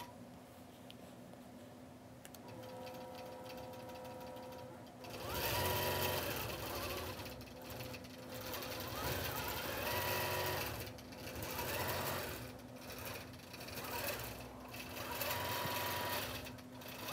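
Sewing machine stitching an art quilt, its steady rapid whir starting about five seconds in and running continuously with small pauses and shifts in pace, fairly loud and alone after a quieter hum at the start.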